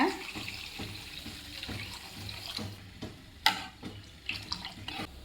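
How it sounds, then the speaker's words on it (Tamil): Water pours and splashes steadily into a pot for amaranth stem soup, with occasional light clinks and drips, close by. "சூப்புக்கு தேவையான தண்ணி ஊற்றிக்கலாங்க"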